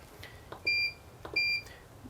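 A new PG ONE pellet grill gives two short electronic beeps as it is switched on, each about a quarter second long and clear over quiet room tone, with faint clicks between them.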